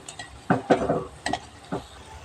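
Langcha sweets fry in hot oil while a spatula stirs them continuously, giving a few distinct scraping strokes over a soft, steady sizzle, close and fairly quiet.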